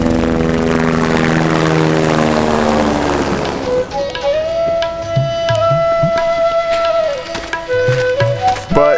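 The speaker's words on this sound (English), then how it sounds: "Oh, I hear another helicopter." Aircraft engine drone, most likely a helicopter, passing overhead in the Nepal mountains along the Dingboche to Chukhung trek, starting loud and broad, then settling into a steady far hum with faint rustles.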